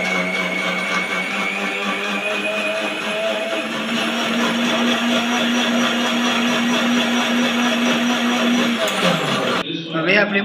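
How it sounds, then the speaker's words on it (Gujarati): A mixer grinder jar crushes ice with jaggery water and a handful of leaves, making a steady, loud motor whir and grinding that runs almost continuously before cutting off abruptly near the end. "હવે આપણે આ ગોળવાળું પાણી અને હવે અંદર બરફ એડ કરીને આપણે મિક્સર જારમાં ક્રશ કરી દઈશું"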